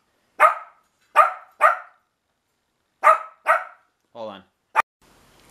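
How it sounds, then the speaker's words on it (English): A dog barks in a run of five loud, close barks with a short pause partway through, and someone says a few words near the end. "one dog likes to just keep barking at me"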